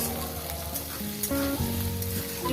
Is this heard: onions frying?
yes